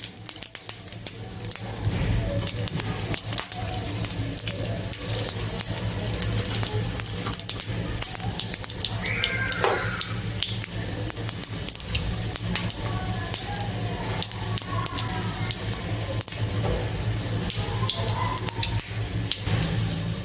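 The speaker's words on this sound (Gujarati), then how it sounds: "હવે આપણે આ રીતે પીસીસ મૂકી દઈશું, એકદમ સ્લો ગેસ રાખીને." Patra bite pieces frying gently in a pan over a low gas flame, giving a steady soft sizzle and crackle that runs throughout, with occasional faint clinks and stirring sounds.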